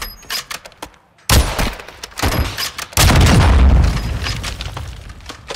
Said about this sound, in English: Who's doing the shooting here? The bots.